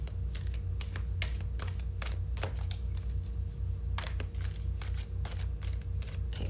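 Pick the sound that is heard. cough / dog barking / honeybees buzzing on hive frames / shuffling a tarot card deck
shuffling a tarot card deck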